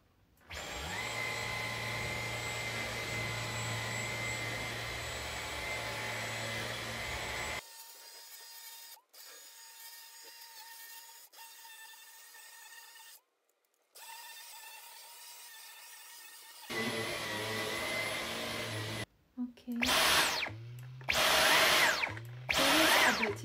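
Dyson V11 Absolute Extra cordless vacuum cleaner running with a loud, steady high-pitched whine, cutting out for a quieter stretch and starting again, ending in short bursts as it is switched on and off.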